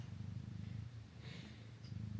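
A house cat purring close by, a soft, steady rhythmic rumble that continues throughout, with no talking.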